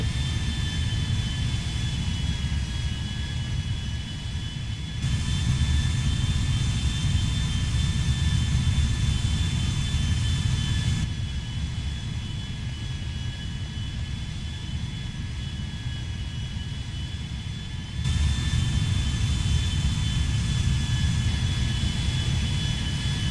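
Jet engines of a Boeing 777-300ER taxi in the GTA V video game, a continuous loud roar with a steady high whine, swelling and easing slightly at intervals, with no talking.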